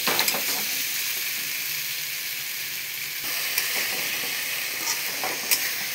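Ghugni masala with tomato cooking down in a pan, giving a continuous bright, close sizzle with occasional soft scrapes from stirring and no talking.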